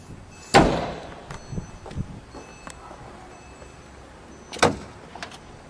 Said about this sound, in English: let's open up the frunk as well before I forget